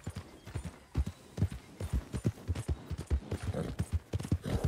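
Horse hooves clip-clop in a steady, rhythmic trot in Red Dead Redemption 2, loud and close, with an occasional faint whinny in the background and no talking.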